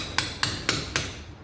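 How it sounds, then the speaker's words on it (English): A hammer strikes a chisel during a 1962 Land Rover Series 2a restoration: four sharp metallic blows at an even pace, close and loud, with no talk. "Try and use a chisel rather than a screwdriver."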